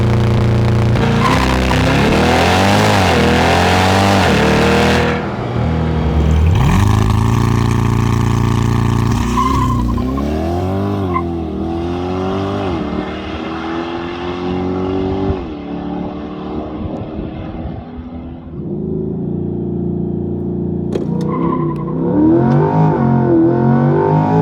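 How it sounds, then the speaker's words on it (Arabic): Chevrolet Corvette C8 launching and accelerating hard from 0 to 100: a loud, close engine roar climbing through several gears with sharp rising sweeps, a brief lull, then more revving. "يلا نعطيهم تسارع من 0 ل 100"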